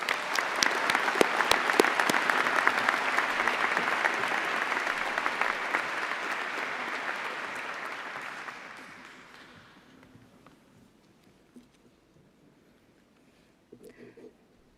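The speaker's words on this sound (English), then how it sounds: "Please join me in a round of applause to the graduates." A dense, sustained ovation from a large graduation ceremony crowd at Imperial College Business School fills the hall, steady for several seconds before fading into near silence, followed by a faint stir near the end.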